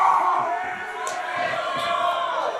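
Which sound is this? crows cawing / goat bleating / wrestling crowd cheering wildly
wrestling crowd cheering wildly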